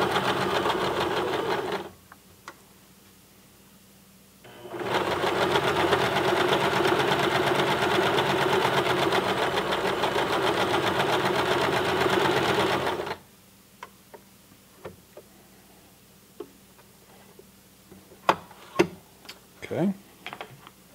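Sewing machine running a long straight stitch through fleece, a loud steady whir in two bursts, the second lasting about eight seconds, followed by quieter clicks and handling noises.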